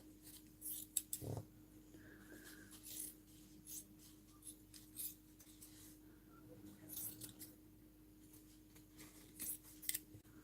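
Scissors snip through small die-cut paper pieces for a vintage purse craft project, with quick, irregular, close-up cuts scattered through a quiet room over a low steady hum.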